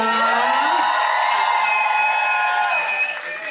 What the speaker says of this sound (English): One more cheer for Patricia Delicious.